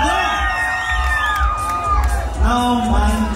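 A crowd at a couples contest in Houston, Texas cheers, whoops and shouts loudly and continuously for the fourth couple, with high voices rising and falling together in a dense, lively din.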